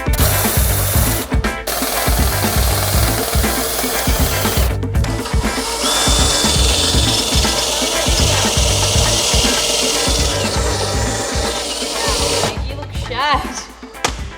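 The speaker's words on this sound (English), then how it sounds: "out comes our very used and abused drill with our Temu spot welder bit attached" A well-used cordless drill fitted with a cheap spot-weld cutter bit grinds out welds during a Nissan Patrol restoration, a loud, sustained, rasping whine with brief pauses at the start and end.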